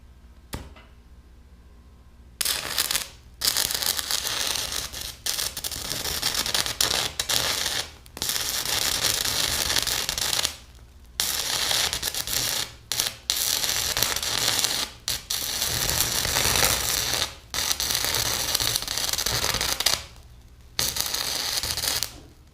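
Stick welder arc cutting through quarter-inch steel, a loud harsh crackling roar in long bursts broken by short silent pauses when the arc stops and restarts.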